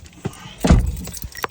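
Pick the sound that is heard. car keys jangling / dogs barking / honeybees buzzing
car keys jangling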